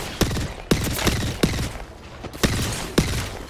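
Sharp, loud gunshots from Apex Legends burst out in uneven bursts of two or three close together, roughly seven reports over a few seconds, with game ambience filling the gaps and no talk.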